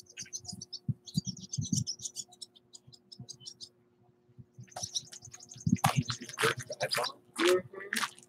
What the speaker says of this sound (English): That one bird's trying to mount the other.